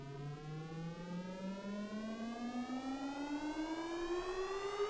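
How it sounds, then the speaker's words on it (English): A riser sound effect for a song production, a harmonic tone that sweeps steadily upward in pitch over several seconds, sustained and fairly loud throughout with a rich stack of overtones. "Riser."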